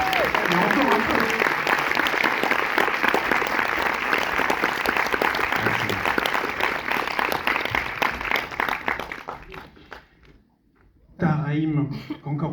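Audience applause for a film team at a movie premiere screening in a Paris cinema, sustained dense clapping for about nine seconds before dying away, then a voice speaks briefly over the room.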